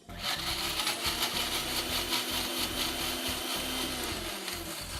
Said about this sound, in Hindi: इसको आपने मिक्सी में पीस लेना है।